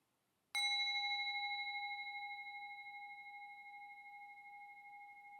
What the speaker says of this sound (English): This wonderful sound of the bell brings me home to my true self